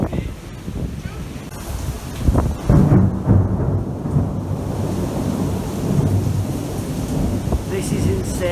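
Thunder rolls and rumbles through a storm with lightning striking close by, under rain and gusts of wind.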